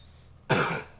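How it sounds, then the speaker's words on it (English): A single sharp cough close to the microphone, sudden and loud after a quiet moment, then fading out. "I'm coughing."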